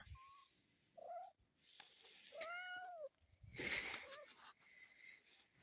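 A pet cat named Pivot on a farm lets out several short, close meows with brief gaps between them, quiet and with no people talking.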